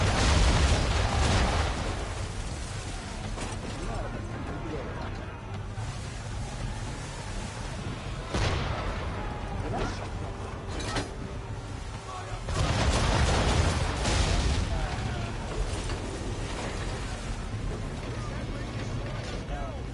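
Cannon fire from a ship's swivel gun during a naval battle in Assassin's Creed III, several heavy booming shots spread over time, mixed with creaking ship and water noise, with voices talking throughout.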